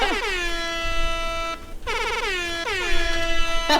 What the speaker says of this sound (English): We need the air horns.